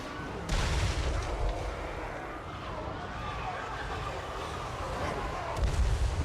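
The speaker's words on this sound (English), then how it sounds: "Firing the demolition rockets on Chaos Warriors." Demolition rockets fire on Chaos Warriors in a strategy battle game, producing a dense, continuous rumble of booming blasts with heavier thumps at the start and end.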